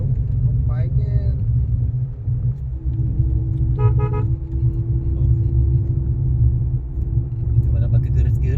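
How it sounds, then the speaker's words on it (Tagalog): Heavy traffic of cars and other vehicles climbs uphill Kennon Road, heard as a constant loud engine rumble with a brief horn toot and a few higher mechanical whines, while a voice talks now and then over the noise. "So dami sasakyan ngayon."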